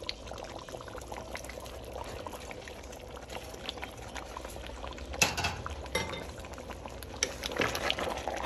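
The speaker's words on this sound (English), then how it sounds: "Now I'm going to be adding the egusi." Egusi is added to a simmering soup pot, a soft patter and splash over a continuous bubbling boil, with a few utensil clinks against the pot.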